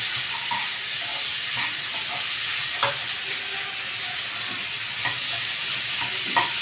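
Onion is tossed onto capsicum frying in a pan, giving a continuous loud sizzle with occasional stirring clinks and scrapes, close and steady throughout.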